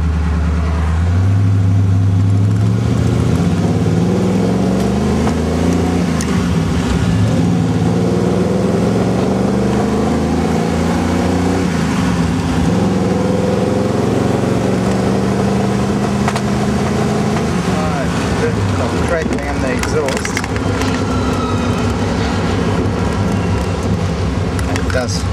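A 1948 Allard M1 drophead coupe driving on the road, its engine droning and shifting pitch as it accelerates and eases off, steady and close, with someone talking over it much of the time.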